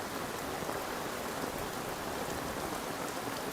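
Steady heavy rain at night in Hyderabad, Telangana: a continuous, uniform wash of falling drops with no pauses or voices.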